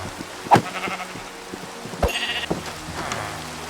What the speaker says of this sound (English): And a bunch more sheep.